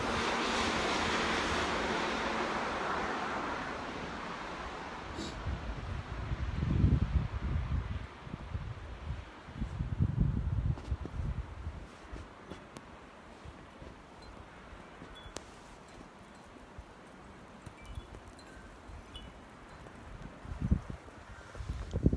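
Gusting nor'easter wind blowing outdoors in Massachusetts, rising and falling in rough bursts against the microphone, with a constant hiss beneath and no speech.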